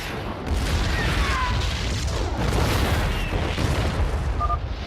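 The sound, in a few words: siege tank shelling cannons, video game explosions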